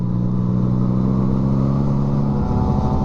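A motorcycle engine revs hard and close during a Sunday ride, a loud steady roar with a deep throbbing pulse that shifts pitch near the end, with no speech over it.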